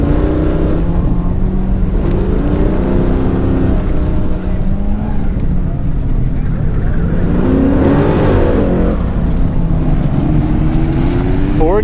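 A 1968 Camaro race car roars steadily and loudly as it accelerates out of a corner at San Pedro, its engine note rising through the gears with a continuous dense rumble.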